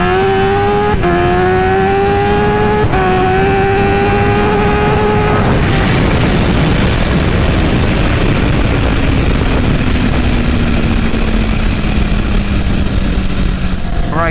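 A stock Kawasaki H2 supercharged motorcycle runs flat out in first gear on a dyno. A loud, close engine whine climbs steeply in pitch, then breaks into a dense roaring rush with a slowly falling tone.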